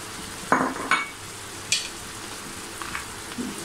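Jaggery goes into raw mango chutney cooking in a pan: a few soft thuds and scrapes as it drops in and is pushed around, over a steady low sizzle, no talking.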